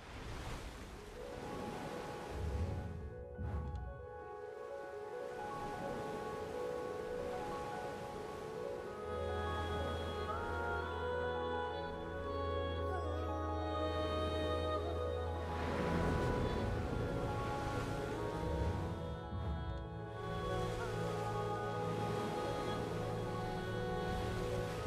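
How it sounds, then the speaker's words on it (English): Symphonic boss theme music from the online game Black Desert Online, heard while sailing the ocean, with layered strings and violins playing continuously and fairly loud over a low sustained drone, with no talking. "It has a lot of strings and violins and stuff, as you can tell. It's very symphonic in nature."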